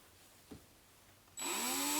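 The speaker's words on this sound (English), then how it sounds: "I'm just going to make just a little tiny little pilot hole for the self-tapper to start in" A power drill boring a small pilot hole for a self-tapping screw during a Jeep Cherokee XJ cowl intake install, starting after a quiet pause with a loud, steady whine that holds to the end.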